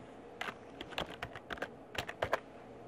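A name is typed on a computer keyboard, a string of crisp, irregular key clicks bunched into quick bursts, close and clear with no voices.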